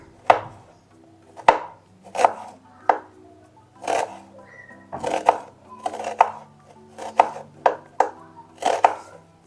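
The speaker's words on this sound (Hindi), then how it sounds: "ये हमने एक मीडियम साइज का प्याज ले लिया है, इसको बारीक बारीक काट लेंगे।" A medium-sized onion being finely chopped on a board, roughly a dozen sharp, distinct knife strokes in an uneven rhythm, close and clear with no talking.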